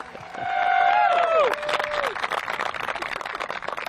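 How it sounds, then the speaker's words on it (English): A crowd at a disc golf tournament cheers and claps, whoops rising over a burst of applause that carries on as scattered clapping, with a commentator talking over it. "The crowd loves it."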